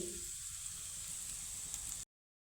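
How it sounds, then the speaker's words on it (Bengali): Ginger frying lightly in a pan, a soft, steady sizzle with faint hiss running for about two seconds before cutting off abruptly, close and alone. "তো একটু হালকা করে ভেজে নিব তা আদার কাঁচা গন্ধ চলে যাওয়া অবধি একটু ভেজে নেব"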